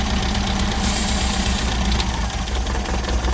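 Twin-carburettor Innocenti engine idling steadily up close with a vacuum leak present, a continuous rough mechanical rumble with a brief hissy burst in the middle, like spray over the vacuum hoses.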